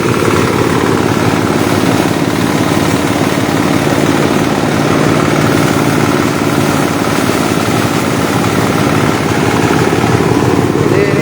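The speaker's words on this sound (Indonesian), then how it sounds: "menggunakan mesin rontok." A rice threshing machine runs at harvest, separating grain from stalks with a loud, steady, unbroken mechanical roar close by for the whole stretch.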